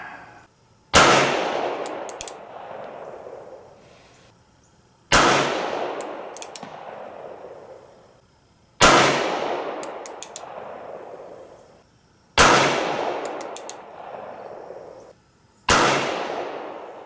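Five loud single-action revolver shots from a Standard Mfg. gun fired at steel targets on a shooting range, each sharp blast followed by a ringing metallic clang and a decaying echo, spaced roughly every three to four seconds.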